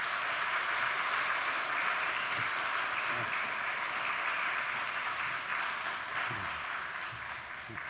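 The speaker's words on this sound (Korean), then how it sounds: "우리 김승진 교수님 나오실 때 한번 큰 박수로 이렇게 맞이해 주시면" A church congregation at a Sunday vision service claps to welcome a visiting professor, a long, even round of applause heard from a little distance that gradually tapers off.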